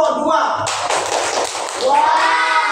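A classroom of students claps together for a group of classmates, with quick, steady, loud hand claps that start partway through and run alongside speaking voices in the room.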